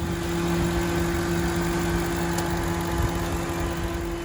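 A 2019 Ram Power Wagon's 6.4 liter V8 Hemi runs steadily at idle, a continuous close-up engine hum with a low, even drone and no voices over it.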